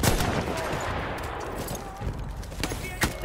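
Gunfire in the Battlefield 1 campaign on hard mode, a dense spray of shots and clattering bursts over steady battlefield noise, with a sharper crack near the end.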